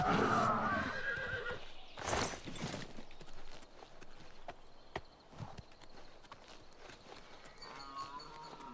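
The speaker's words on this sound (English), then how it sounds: "Stay away from that horse." A horse in the video game Oblivion Remastered whinnies loudly up front, followed by a scatter of clip-clopping hooves and faint game ambience.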